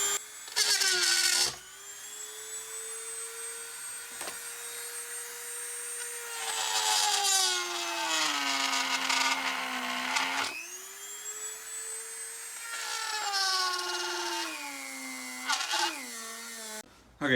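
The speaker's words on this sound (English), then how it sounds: "I'm just going to take a Dremel and drill it out a bit" A Dremel rotary tool drills out holes in a homemade supermoto fender for a Yamaha WR250R motorcycle, a loud high-pitched whine that rises and falls in pitch across several long sustained runs, close up, with no talking.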